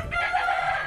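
Chickens on a farm, with a sustained crowing and clucking call that is fairly loud and close and fills the whole short moment without any talk.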